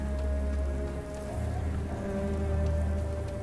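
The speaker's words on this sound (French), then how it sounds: "Ah, il pleut." Rain falls in the space video game Starfield, a dense steady patter layered over low droning hums and tones from the game world, continuous and fairly loud, with no speech.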